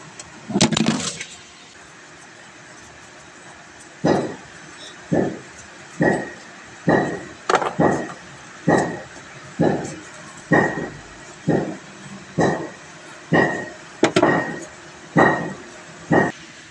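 A Toyota Fortuner engine that will not rev past about 1,500 RPM gets repeated short throttle blips, a dozen or so evenly spaced bursts that climb briefly and drop back, heard close up.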